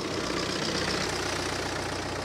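A BMW B47 two-litre diesel engine in a convertible idles up close, with a constant clattering rumble and no break in the sound.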